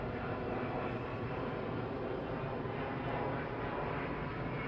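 Aircraft engines at East Midlands Airport at night roar as a steady, broad, continuous drone that stays loud throughout with no talking.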